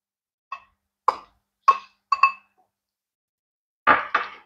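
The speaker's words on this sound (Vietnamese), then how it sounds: "Lúc này mình sẽ cho hết cái phần đậu xanh mình đã nấu vô." Cooked mung beans dropped into a bowl of rested batter, a series of soft wet plops and light clinks, four quick ones then a pair after a pause, close and clear in a quiet room.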